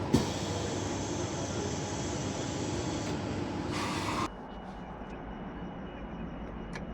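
A Perth commuter train on the Armadale line pulls away from the platform at night with a steady mechanical drone and rumble. A sharp hiss of released air is followed by a quieter, lower hum as the train runs on.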